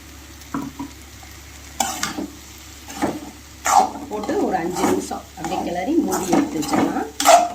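Grated coconut goes into frying ridge gourd and is stirred through it in a pan, with spoon scrapes and soft sizzling that come in bursts, getting louder and steadier toward the end while a person talks over it.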